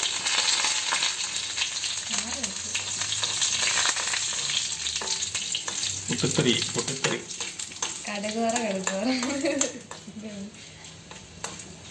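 Dried red chilies, cut in pieces, and curry leaves hit hot oil for tempering, giving a loud steady sizzle and crackle that runs throughout, with brief stirring clatter and someone talking over it in places.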